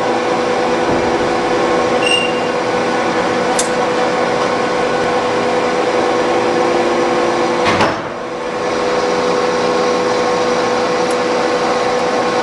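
Metal lathe taking a steady cut along the full length of a metal workpiece, turning it down to diameter: a continuous machine whir with faint squeals, close and loud, with a brief dip partway through.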